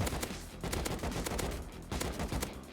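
Rapid bursts of AK assault rifle fire in the video game Rust crackle in close succession, loud and dense, with short gaps between volleys and no voices.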